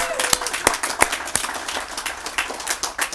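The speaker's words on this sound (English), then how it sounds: "That deserves an applause." A crowd claps at an outdoor ribbon cutting for Newport News' first lighted basketball court, loud separate hand claps at first that thin into scattered, uneven applause.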